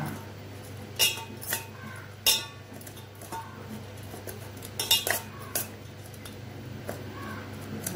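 A spoon mixes sweet finger millet puttu in a dish, giving scattered metallic clinks and scrapes against the dish at irregular intervals over a quiet background, with no talking.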